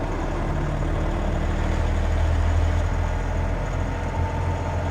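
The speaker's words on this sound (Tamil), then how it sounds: "டிப்பிக்கல் அந்த 3 சிலிண்டர் என்ஜினோடைய நாய்ஸ் வந்து இருக்குது" Ashok Leyland Saathi light truck with a three-cylinder engine running on the road in fourth gear, heard from the cabin as a steady, loud low drone with constant rumble, without any talk.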